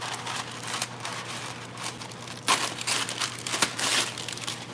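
Transfer tape for a Cricut machine being cut and handled, crisp crinkling and rustling of plastic sheet in irregular bursts, close and fairly loud, with no talk.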